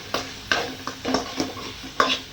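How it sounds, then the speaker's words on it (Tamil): Chopped onion and tomato are sautéed in a pan for mutton fry, with a soft background sizzle broken by about six distinct scraping stirs of a spatula against the pan at an uneven rhythm, close up and without talk. "தக்காளி நல்லா ஒரு பெரிய தக்காளி ஒன்று பொடி அரிஞ்சு போட்டு இதை அப்படியே நல்லா வணக்குங்க"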